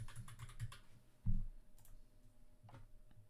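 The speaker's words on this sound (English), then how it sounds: "So I can go and I can put my password back in." Someone types a password on a computer keyboard, quiet scattered key clicks in short bursts with pauses between, close and soft in a quiet room.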